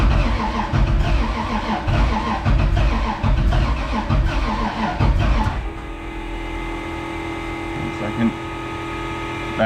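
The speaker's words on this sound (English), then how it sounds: "That cold start though." A car engine cold-starting with a loud rumbling rev at first, then dropping to a steadier, quieter idle about halfway through, heard from the driver's seat.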